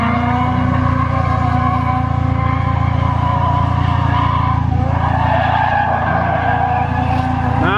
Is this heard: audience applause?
no